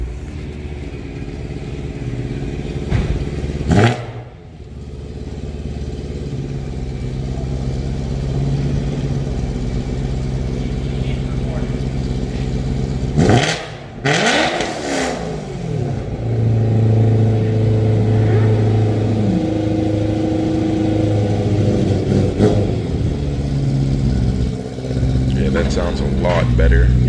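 BMW E92 M3 with an ACM-modified stock muffler, its exhaust droning and revving in repeated pulls with sharp blips and brief dips, loud and close, a voice talking over parts of it.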